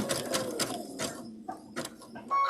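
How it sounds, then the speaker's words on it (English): A sewing machine runs a zigzag stitch across a coiled rope bowl in short rhythmic bursts of rapid mechanical needle clatter, close up, with brief pauses between runs. "So I'm gonna actually do a little zigzag stitch on here."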